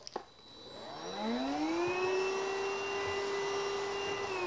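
Hoover Rhapsody RA22HCG cordless upright vacuum running with its crevice attachment: a quick click, then a motor whine that rises steeply and settles into a loud steady high hum, close and alone.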